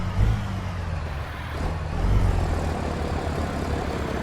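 Steady low rumble from a Cummins ISX 15 truck engine rated at 550 horsepower, hauling Texaco B-train tankers in American Truck Simulator, a continuous droning idle with a slight swell partway through.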